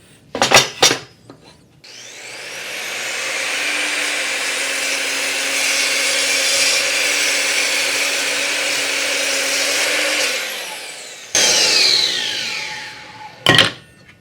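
An Evolution R255 miter saw slices through a 6-inch-wide, 2.5-inch-thick walnut board: the motor spins up, a steady loud whine runs through the cut for about eight seconds, then winds down, with short clatters before and after.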